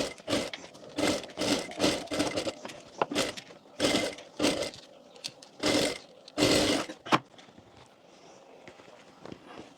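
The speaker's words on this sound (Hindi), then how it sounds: "अब अस्तर के भाग को इस तरह से कर यहाँ पर सिलाई लगा लेंगे अंदर की साइड।" A sewing machine stitches the lining of a Sabyasachi-style blouse in a series of separate short bursts with pauses between them, close and fairly loud, fading out toward the end.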